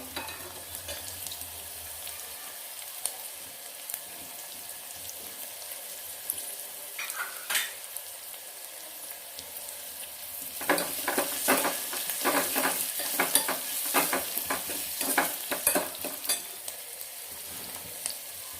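Onion and crushed garlic fry in a pan with a continuous bright sizzle, quieter at first and then swelling into busy crackling and spitting during stirring; no talking.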